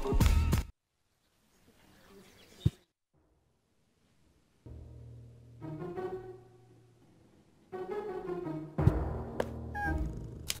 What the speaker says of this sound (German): Katze auf der Tastatur.